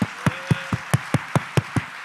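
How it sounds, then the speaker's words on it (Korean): A congregation at a Friday late-night prayer service claps for its worship team: about nine sharp, evenly spaced claps in a steady rhythm, close and fairly loud, with no voices. "박수. 축복해요."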